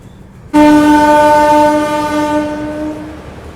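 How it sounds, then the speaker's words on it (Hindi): A Moradabad–Lalkuan passenger train sounds its horn at Bilaspur Road station in Rampur district: one loud, sudden, sustained tonal blast lasting about three seconds, then fading out. "मुरादाबाद लाल कुआं पैसेंजर ट्रेन"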